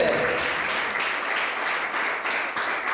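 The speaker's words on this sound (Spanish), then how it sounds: "Dale un aplauso al Señor, hermano, porque Él tiene todo el poder." Church congregation applauding, steady dense clapping from many people filling the room at moderate loudness, with a voice faintly heard over it.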